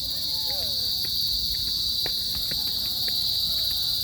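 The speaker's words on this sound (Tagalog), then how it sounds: "Kuliglig, so nice." A dense, continuous high-pitched cicada drone fills the air, steady and loud throughout, with faint scattered clicks and ambient outdoor noise underneath.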